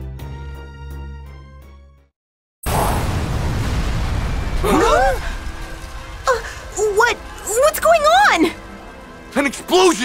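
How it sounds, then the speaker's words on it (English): An explosion tears through the city in the video game Dragon Ball Z: Kakarot: music cuts out, then a loud, broad rumbling blast rolls on while characters talk over the lingering roar. "An explosion in the city!"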